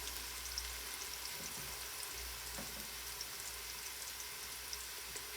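Filling seasoned with oregano sizzles steadily while browning in a pan for stuffed eggplant, a faint, continuous crackling fry with small pops and no talking.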